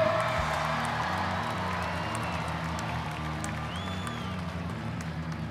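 Event crowd applauding and cheering the float winners, a fairly faint, continuous spread of clapping and whoops with steady low tones underneath.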